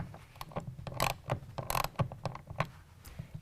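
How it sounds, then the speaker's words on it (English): Wrench or ratchet tightening nylock nuts on the bolts of an Extang Xceed tonneau cover on a 2019 GMC/Chevy 1500 crew cab pickup, irregular close metallic clicks and ratcheting ticks in quick succession. "let's go ahead and tighten down these bolts. We're going to use a 1/2 inch wrench or ratchet."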